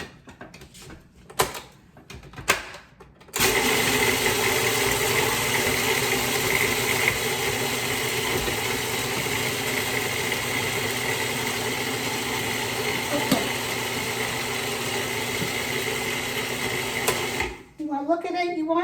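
A blender grinds oats into oat flour, a loud continuous whir starting abruptly after brief handling noises and running steadily for about fourteen seconds before cutting off, with a voice briefly audible at the end.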